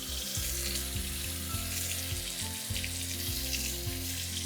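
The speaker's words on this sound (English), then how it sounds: "let's fill up our clean sink with warm water." Warm water pours from a tap into a clean sink, a steady close splashing hiss with a rhythmic low pulsing underneath, filling without voices.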